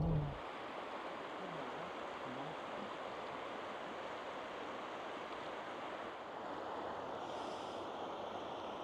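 Water rushing along a river beside a geothermal feature in Yellowstone National Park, a steady, full broadband wash that holds even and close for the whole stretch with no clear breaks.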